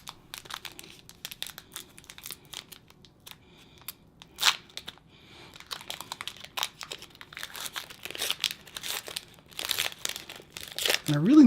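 Crinkling and tearing of foil wrapping as a Pokémon trading card booster pack is opened, with sporadic rustles building to denser crackling near the end, close up with brief speech.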